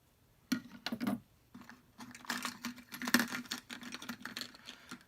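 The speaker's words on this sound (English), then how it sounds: "Now I'm just going to take my scissors here. I'm going to cut the tabs off the skirt." Scissors snip the tabs off a fishing lure skirt up close, with sharp crisp cuts early on followed by a busy run of small snipping and rustling sounds, quiet and without talk.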